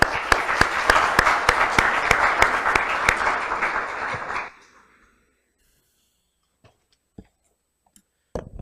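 An audience at a law lecture applauds to welcome a speaker, steady dense clapping with sharp individual claps for about four seconds, then fading to near silence with a few scattered knocks and rustles.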